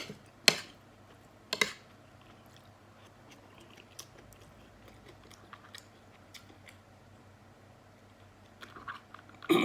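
Someone eating lunch of minced pork with tofu, chili paste, boiled egg and fresh garlic: a few sharp crunchy bites near the start, then quiet, soft chewing clicks and faint movement, with a louder crunch at the end.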